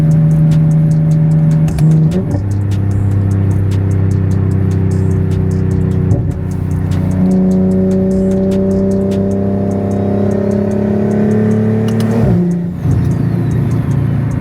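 A single-turbo BMW M340i engine revs loudly and steadily on a dyno, its pitch climbing through several long pulls with brief drops between gears, close and continuous.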